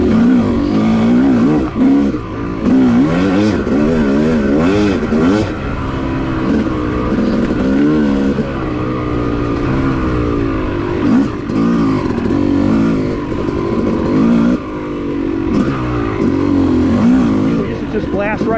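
A Yamaha YZ250 two-stroke dirt bike on a wooded OHV cycle trail, its engine loud and close as it revs up and down repeatedly through gear changes, with a rider's voice talking over it.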